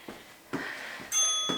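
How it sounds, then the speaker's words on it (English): A workout timer bell rings during a strength and cardio circuit session, a bright tonal ring with lingering overtones arriving near the end, after a few soft thuds and breaths. "I know that bell is coming, and I'm going to keep working until I hear it."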